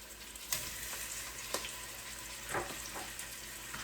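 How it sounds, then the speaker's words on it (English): Steady sizzling of lamb neck meat searing in hot olive oil, with sharp spatters and crackles popping out every second or so, close and continuous. "this is going to go into this hot olive oil pan"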